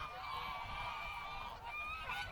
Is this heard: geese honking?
yes